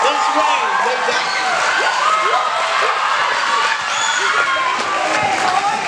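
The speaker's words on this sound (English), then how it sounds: "Please join me in giving our cheerleaders a big round of applause." A crowd at a football and cheerleader banquet cheers and applauds for the cheerleaders, loud overlapping shouts, whoops and clapping filling the room continuously, with voices mixed throughout.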